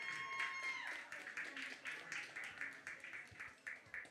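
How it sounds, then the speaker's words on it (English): An audience claps at a roast battle, scattered rhythmic hand claps in a room, fairly faint and thinning out over a few seconds. "Clap it up for him, man."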